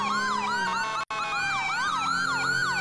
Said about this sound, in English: That may be just how the custom sirens are. They sound great.